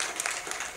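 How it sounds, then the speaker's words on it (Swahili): An audience at a farm knowledge centre launch applauds, a steady wash of clapping from many hands filling the short moment with no clear voices. "Naomba tujipigie makofi wote."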